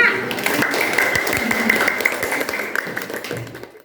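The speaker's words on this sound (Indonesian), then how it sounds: "tepuk tangan untuk kelompok 5" A classroom group applauds a student team, steady clapping from several people that fades toward the end, with some voices murmuring underneath.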